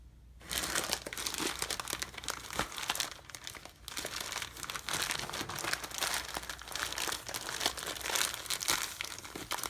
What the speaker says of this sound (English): take one of our socks and put the bag of beans inside the sock